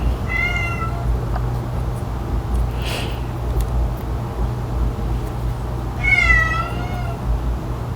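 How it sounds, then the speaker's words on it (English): A house cat meows from just outside a closed door, two drawn-out, plaintive cries spaced several seconds apart over a steady low indoor hum, with no talking. "I have a cat crying outside my door."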